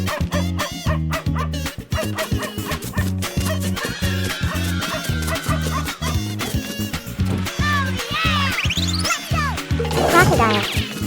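A cartoon-style dog barks and yips in short bursts, with whimpery squeals, over a loud, bouncy music beat in an animal sound guessing game.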